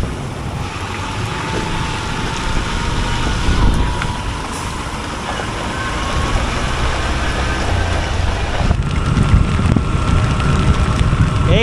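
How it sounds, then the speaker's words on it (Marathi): Heavy rain pours steadily on the Mumbai–Goa highway, a dense, loud, continuous hiss mixed with the low rumble of passing traffic and spray, without pause throughout. "1 तास आराम केल्यानंतरला पावसाचा पूर्ण एकदा जोर वाढलेला आहे."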